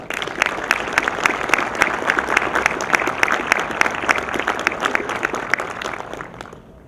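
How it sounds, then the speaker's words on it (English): Loud, sustained applause from a sizable audience at a US Army Veterans Day ceremony in Afghanistan, many hands clapping densely and evenly for several seconds before tapering off at the end. "Join me in a round of applause for all of them."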